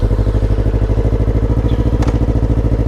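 A 2021 Honda CBR500R motorcycle on a night ride on a back road, its engine thrumming loud and close in a steady pulsing rhythm as it cruises.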